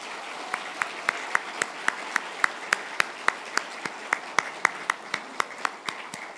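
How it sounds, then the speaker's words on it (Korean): A church congregation at a Korean pastor's installation service claps in a steady unison rhythm, with sharp, evenly spaced beats repeating for several seconds over a soft background. "우리 교우들 큰 박수로 환영해 주시고 축복해 주시면 감사하겠습니다"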